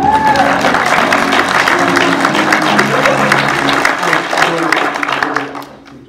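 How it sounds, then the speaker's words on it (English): Audience applause at a convention panel at TFNation 2018, a steady wash of clapping from a crowd in a hall, loud and sustained for several seconds before trailing off, with some voices mixed in. "Round of applause for Tony."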